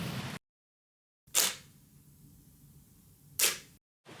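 Two crisp mechanical clicks from a single-lens reflex camera shutter, the first near 1.4 s and the second about two seconds later, with faint room hiss between them and silence around.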